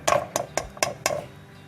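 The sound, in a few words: adding washed rice into pot of spices for prawn biryani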